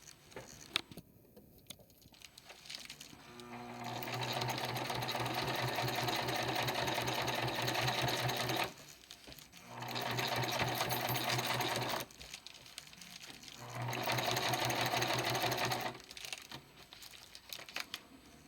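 A sewing machine drives through heavy blackout curtain fabric in three long, steady runs separated by brief pauses, loud and close with a busy rapid needle hum and no talking over it.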